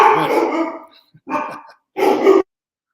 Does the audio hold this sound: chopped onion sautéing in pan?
no